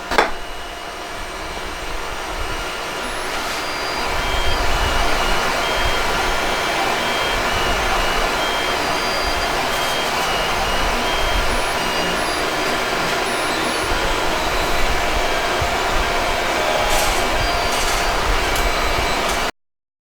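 Geeetech A10T three-colour mixing 3D printer heating up, a steady whirring fan-like drone with faint high electronic tones, continuous and fairly close for about twenty seconds before cutting off abruptly.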